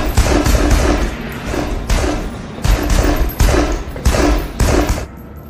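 Shootout between gangsters and a rescue crew in an action film about human-trafficking mafia: dense bursts of automatic gunfire and heavy shots, loud and close, arriving in repeated volleys with brief gaps, no talking.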